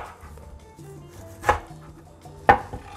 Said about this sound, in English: So now I'm going to cut the spinach to size,